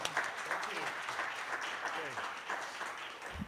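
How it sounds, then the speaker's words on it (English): An audience at an architecture school lecture applauds steadily, a fairly faint, even patter of clapping heard from a distance with no break across the stretch. "If we could offer a round of applause."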